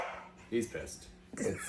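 A dog on a podcast set gives two short, sharp barks in quick succession, close to the microphone, while a person talks over them.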